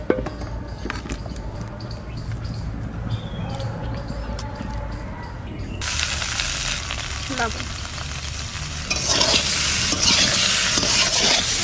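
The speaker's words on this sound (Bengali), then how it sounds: "এবার মাছগুলো দিয়ে দিচ্ছে" Small lata fish go into a karahi, and a loud, close sizzle of frying bursts out and keeps hissing steadily, growing louder, after a quieter stretch of faint kitchen clatter.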